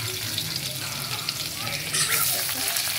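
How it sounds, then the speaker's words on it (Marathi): Garlic, cumin and mustard seeds crackle and sizzle in hot oil in a kadhai while tempering is prepared for homemade kadhi, a steady close frying hiss with a brighter burst of spattering near the end. "तर आपण कढईमध्ये तेल टाकणार आहोत। लसूण, जिरे, मोहरे टाकून याला चांगली फोडणी देणार आहोत।"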